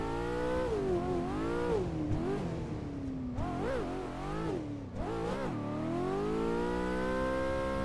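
A 2024 Ford Mustang drifting in Assetto Corsa on the Fort Curva track revs hard, its engine note swooping up and down through repeated throttle blips and sustained high-rpm wails, loud and continuous.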